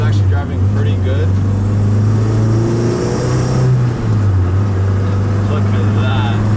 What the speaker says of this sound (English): As you guys can tell, the car is actually driving pretty good.